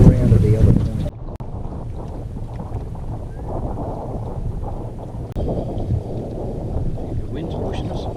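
Wind gusts buffet the microphone on a boat out on Lake Cooby during a fishing trip, a loud blustery rumble at first that settles into steady low wind noise with faint water sounds.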